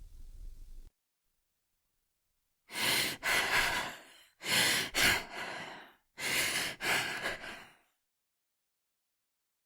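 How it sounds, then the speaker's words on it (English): Eerie, heavy breathing from an unseen presence in a supernatural horror story: three loud, close bursts of ragged inhales and exhales with silent gaps between, standing alone without talk. "But the breathing continued, growing louder, angrier,"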